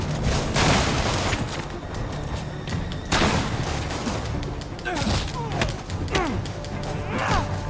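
Gunfire in the video game Marvel's Spider-Man comes as a few loud, sharp bursts and thuds spread across the scene, mixed with character voices and other action noise.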